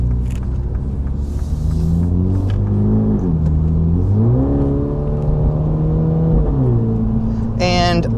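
Mini JCW GP3 engine heard from inside the car while driving: a loud, close, continuous drone that climbs in pitch, drops at gear changes and climbs again, with a short raspy burst near the end.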